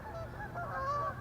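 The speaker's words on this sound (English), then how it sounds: "Look at the geese acting ugly." Several geese honk and squabble nearby in a short burst of nasal, overlapping calls, heard outdoors by a fishing spot with no talking.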